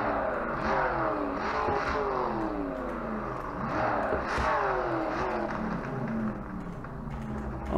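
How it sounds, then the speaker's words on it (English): A Shelby Cobra 427 S/C with side exhaust revs hard in a racing video game, its engine climbing and dropping through repeated gear changes, loud and continuous with no talking. "This is one of the best sounding cars in the game, and it has side exhaust."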